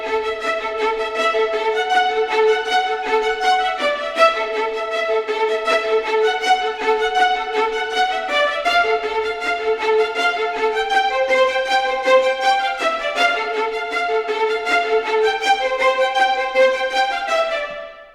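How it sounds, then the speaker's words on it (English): The first violins of a string orchestra, recorded with a Decca tree, play a sustained, flowing melody in close harmony, steady and full, with natural hall reverb trailing off at the end. "Just to remind you what the first violins sound like straight out of the box"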